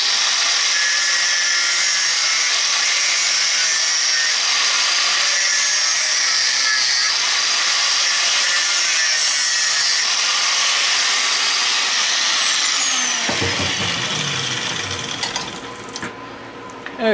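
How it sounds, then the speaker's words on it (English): An angle grinder cuts a piece out of scrap brass on a cold winter day. It gives a loud, sustained, high-pitched grinding whine close by that carries on steadily before tapering off near the end, with no speech. "I'm just going to run the angle grinder across there and see if I can just cut that piece out of there."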